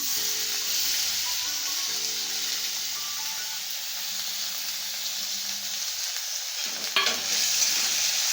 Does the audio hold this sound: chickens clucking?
no